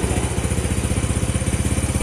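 A motorcycle engine runs steadily while its carburetor is adjusted, a close, loud, even idle chugging with rapid regular pulses and a metallic clatter, and no voices.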